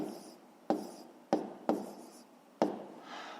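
Pen writing on paper while a fifth-grade maths exercise is worked out, heard as four quiet, sharp, close taps and strokes, each trailing off, with faint scratching between them.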